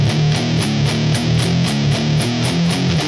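Palm-muted electric guitar riff, picked softly with the pick held nearly parallel to the strings; steady chugging low notes repeat in a tight rhythm, loud and close, with no talking.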